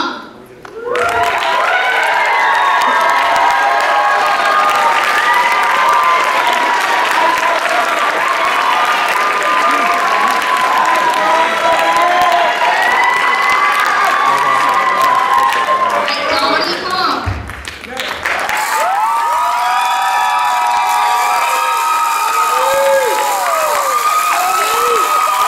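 A high school contest crowd in a gym claps and cheers loudly for the finalists, with sustained applause, shouts and whoops, a brief lull, then a second swell of cheering.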